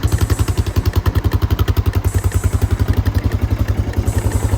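A motorcycle engine with a brand new top end runs at a steady idle, loud and close, with a fast, even thumping beat and mechanical clatter throughout.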